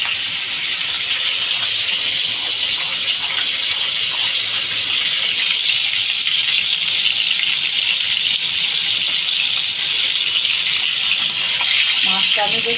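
Fish frying in a pan of hot oil, giving a continuous, loud hiss and crackle throughout with no pauses.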